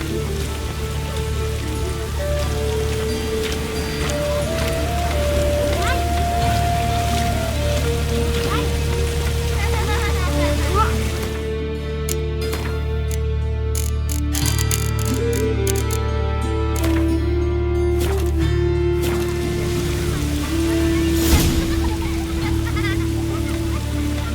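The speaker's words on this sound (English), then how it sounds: "Raining again." Steady rain falls in the Witcher 3 video game, a constant hiss with a tonal music line running over it, moderately loud and unbroken throughout.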